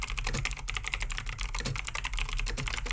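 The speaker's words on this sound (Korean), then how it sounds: "찰칵찰칵하고 눌리는 클릭키함" Rapid, sharp clicking keystrokes from a mechanical keyboard with clicky switches, each press crisp and bright, typed in a steady continuous flurry up close.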